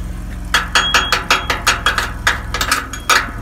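A chipping hammer knocks sharply at weld slag during trailer repair, roughly a dozen quick metallic taps in an uneven rhythm, close and loud.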